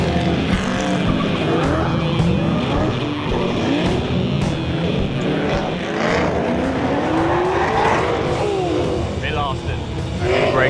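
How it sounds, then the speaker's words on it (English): A race car at an autocross event skids with locked brakes, tires squealing and scrubbing loudly for several seconds over engine noise, close and continuous, with people talking underneath. "Brakes locked up on that corner and wiped out."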